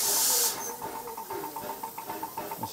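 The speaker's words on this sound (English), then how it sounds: "The steam just coming out there." Steam hisses loudly from a steam locomotive at Froghall Station on the Churnet Valley Railway, a strong burst in the first half second that then falls to a lower, steady hiss with light puffing and clanking behind it.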